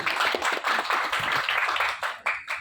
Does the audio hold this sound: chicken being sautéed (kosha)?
no